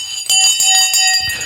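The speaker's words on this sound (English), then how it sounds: "I know the bell has just gone" A bell rings loudly and continuously in a clanging, resonant wash, with repeated struck tones blurring together, close and alone without talk.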